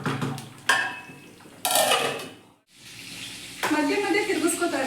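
Chicken biryani simmering in a pot on medium flame, stirred now and then: metal spoon scrapes and clanks against the pot over a soft sizzle, with a brief quiet pause and voices nearby.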